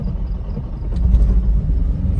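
A Toyota Prius makes a low, loud rumbling noise as it starts rolling from a stop, a close, steady drone that briefly swells, with no talking.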